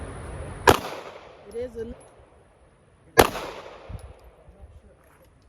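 Two sharp, loud Glock pistol gunshots at outdoor target practice, a few seconds apart, each with a brief decaying echo, while quiet voices talk between them.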